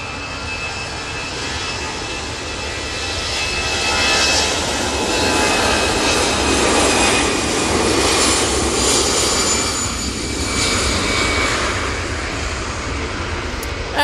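An Aer Lingus Airbus A320 jet departing Manchester Airport for Dublin roars loudly and steadily, the broad engine rumble swelling in the middle and holding strong before easing slightly near the end.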